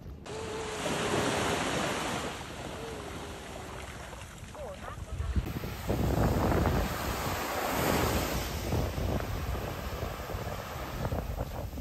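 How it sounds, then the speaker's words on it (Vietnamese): Calm ocean waves wash onto a fine-sand beach at Tuy Hoa, Vietnam, a steady rolling surf close by with heavy wind gusts buffeting the microphone, and faint voices now and then. "Biển rất là đẹp, sóng thì cũng không có nhiều, cát thì rất là mịn"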